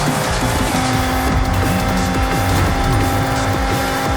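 Mazda Miata in Forza Horizon 6 launching hard, the engine revving up through rapid gear changes with tire squeal, loud and close, with no talk.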